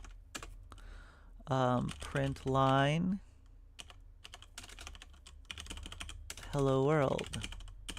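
Code typed on a computer keyboard, a steady run of quick light key clicks close up through most of the stretch, broken by short bursts of someone talking.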